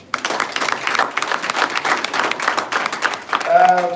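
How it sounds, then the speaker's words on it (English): An audience at a live broadcast event gives a round of dense, steady clapping, with voices mixed in and a short tonal sound at the end. "let's give him another round of applause"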